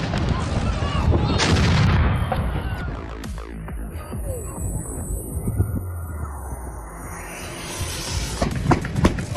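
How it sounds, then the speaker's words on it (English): Deep booming blasts from carbide cannons, loud thuds with rumbling echoes and crowd noise in the background, several explosions spaced out over the stretch. "explode carbide using special cannons, putting on a spectacular show"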